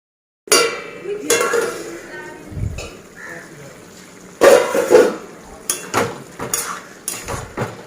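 Metal clinks and clatters as a lid goes onto a cooking pot on a gas stove, a few sharp knocks of cookware against the pot, close by under intermittent speech.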